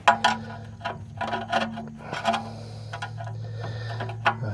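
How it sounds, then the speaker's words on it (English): Old 7/8 Craftsman wrench loosening the oil drain plug on a 1966 Chrysler, with irregular close metallic clicks and scrapes over a steady low engine-bay hum. "You're gonna get on the drain plug,"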